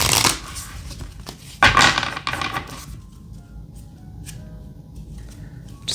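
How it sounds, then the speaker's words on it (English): A tarot card deck being shuffled by hand, with two loud bursts of riffling and clattering cards near the start, then quieter scattered card taps and slides. "Shuffled more."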